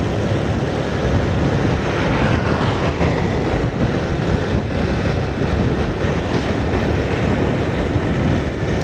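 Honda Vario scooter with a replaced handlebar being ridden fast, a steady loud rush of wind and road roar with the engine buried underneath, no voices.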